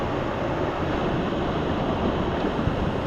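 A waterfall on a remote island in northern Vanuatu roars as a dense, loud, constant rush of falling water at its base, close and unbroken, with no talking.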